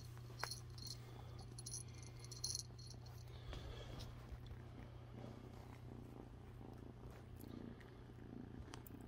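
A cat purrs close by in a continuous low, even rumble, quiet against faint room noise with a few small clicks and rustles.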